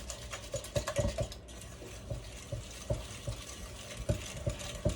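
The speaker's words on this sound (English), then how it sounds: "whisk it really good, Mom" Bread pudding mixture is whisked by hand in a bowl, with quick rhythmic clicks and taps of the whisk against the sides, steady and close with no voices.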